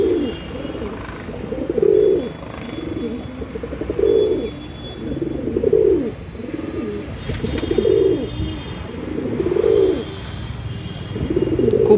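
Several caged pigeons offered for sale coo steadily up close, overlapping throaty rolling calls repeating every second or two over a quiet background.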